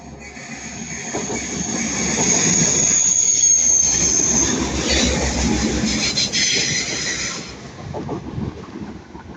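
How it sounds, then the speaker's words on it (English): A Class 195 train heading for Manchester Piccadilly passes at Ardwick, Manchester. It swells from a distant rumble to a loud, close roar with high wheel squeal and rhythmic clatter, then fades away. "we've got a 195 going to Manchester Piccadilly, maybe from Sheffield"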